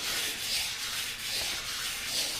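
Sandpaper rubs back and forth over a metal bead piece in a studio, a soft, raspy scratching in slow, even strokes, close and fairly quiet with no talk.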